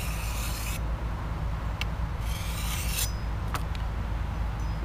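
A Cold Steel barong machete's edge is sharpened by hand, giving a close, continuous rough rasping rub of the sharpener drawn along the blade, with a few brighter scraping strokes and no talk.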